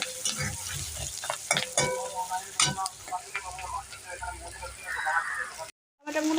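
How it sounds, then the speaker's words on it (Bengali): Onions frying in a pan for an egg curry, with a steady close sizzle and scattered clicks of a spoon stirring, briefly cutting to silence near the end. "পেঁয়াজগুলো আমি লাল লাল করে ভেজে নেব।"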